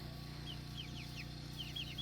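Chickens and chicks on an off-grid homestead give faint, short high peeps and clucks in a few scattered bursts over a low, steady background hum.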